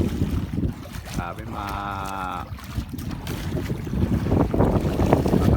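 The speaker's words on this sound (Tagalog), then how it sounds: "yan ulan, may kasamang malakas na hangin" Strong wind and rain at sea in the Pacific off Samar, heard from a small boat, a steady roar of wind buffeting the microphone with water noise and a brief tonal whine, people talking throughout.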